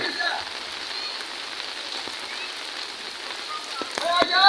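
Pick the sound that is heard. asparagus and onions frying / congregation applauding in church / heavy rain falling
heavy rain falling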